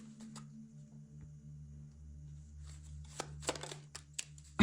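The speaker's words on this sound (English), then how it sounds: "let's go ahead and pull out little mermaid cards here" Little Mermaid oracle cards being shuffled, soft riffling and slapping close by in a quiet room, with the clatter growing busier toward the end.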